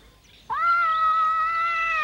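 A domestic cat lets out one sustained, clear meow that starts abruptly midway and holds steady to the end, close and fairly loud over a quiet indoor background.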